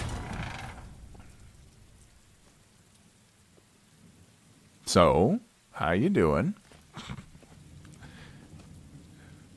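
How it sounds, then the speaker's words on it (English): Steady rain in Telltale's The Walking Dead: Michonne game, a soft continuous patter under the scene, with loud bursts of speech partway through. "I hate the rain."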